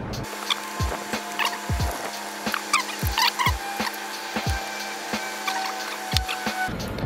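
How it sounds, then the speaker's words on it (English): Cordless driver whirring in short repeated bursts with small clicks, backing screws out of the dashboard air vents of a 2004-2008 Acura TSX, close by over a steady background hum. "after you remove the screws"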